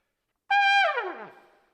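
A jazz trumpet sounds one bright sustained note, then lets it sag and drop limply in pitch, the fall fading out quickly and weakly after about a second.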